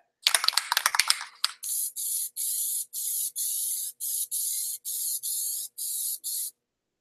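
Plasti-Dip aerosol sprayed in light coats onto a BMW front grille outdoors at 28 degrees: a brief rattle, then about nine evenly spaced, loud, close hissing bursts, each roughly half a second long.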